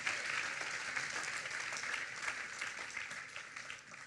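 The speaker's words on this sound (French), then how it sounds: "Acclame le Seigneur, acclame le Seigneur." A church congregation applauds the Lord, a steady wash of many hands clapping together at moderate distance, continuing evenly throughout with no speech.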